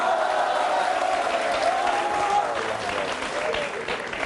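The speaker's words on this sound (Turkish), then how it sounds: "Ağzını her açtığında alkışlayın" A studio audience at a Turkish comedy show claps in a sustained, dense round of applause that softens slightly toward the end, with a faint voice tone audible within it.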